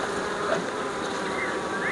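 Honeybees swarm and buzz inside mini nucleus hive boxes, a dense, steady humming drone that stays close and continuous throughout with no voices.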